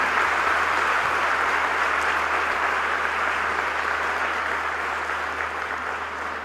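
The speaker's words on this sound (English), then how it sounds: "please give a big round of applause to the recipients of degrees, awards, medals and shields" Sustained, dense applause from a large audience at a Lahore College for Women University convocation, honouring recipients of degrees, awards, medals and shields; steady clapping fills the whole stretch without a break.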